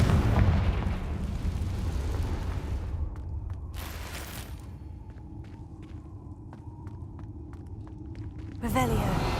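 Confringo spell blasts in the Hogwarts Legacy video game, loud booming explosions with rumbling debris and sharp crackling impacts, followed by a quieter stretch of scattered clicks and a final burst.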